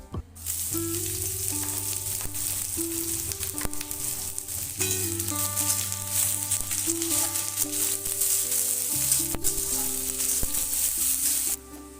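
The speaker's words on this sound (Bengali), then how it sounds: "পেঁয়াজগুলো ভাজা হয়ে গেছে" Chopped onions fry in mustard oil in a karahi with dried red chilli and bay leaf, a steady close sizzle running throughout with occasional stirring scrapes.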